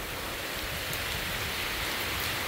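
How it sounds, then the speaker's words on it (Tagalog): Heavy rain pours down at a resort in Infanta, Quezon, a dense continuous hiss of drops drumming on surfaces, loud and even throughout with no voices. "Umuulan na malakas."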